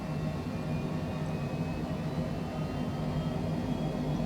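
Aircraft engines in a flight simulator game, a steady, even drone with the auto throttle engaged, continuous and moderately quiet, with no talking.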